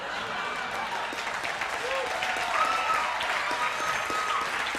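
Sustained applause from an audience, steady clapping with a slight swell midway, a voice faintly audible underneath.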